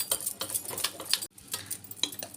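Cake batter being beaten by hand after adding flour: quick rhythmic scraping and tapping of a utensil against a bowl, close and fairly soft, with a brief pause midway before the strokes resume.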